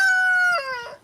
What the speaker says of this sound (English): Sometimes my neighbor lets their chickens out.